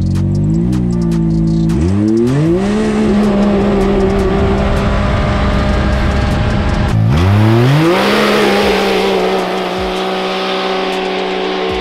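A Can-Am Maverick X3 side-by-side does boost launches uphill, its engine revving up in rising sweeps through two gear pulls, loud and close with a steady roar between and no talking.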